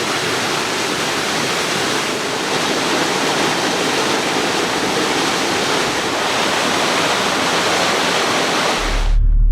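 A waterfall beside a creek campsite in the Ozarks roars as a loud, dense, steady rush of falling water that holds constant from start to finish.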